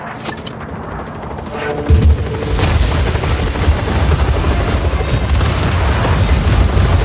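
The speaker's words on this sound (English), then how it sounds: "Firing missiles now!" Missiles exploding in the video game Just Cause 4, with a deep booming blast near the two-second mark rolling into a sustained, loud rumble of explosions and debris.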